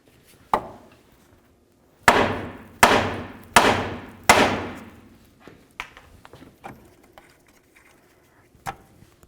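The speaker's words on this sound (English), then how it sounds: "we'll give the knuckle a couple loving bonks to break this free" Hammer strikes on the steering knuckle of a 1998-2002 Honda Accord to break the front passenger-side CV axle free: four loud, sharp metallic bonks in quick succession, with a few fainter taps before and after.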